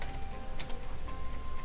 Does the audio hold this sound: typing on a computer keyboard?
yes